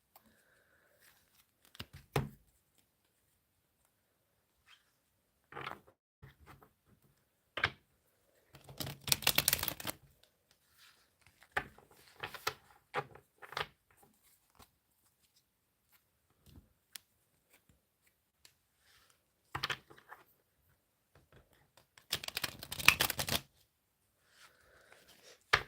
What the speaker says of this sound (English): let's have a few shuffles for Capricorn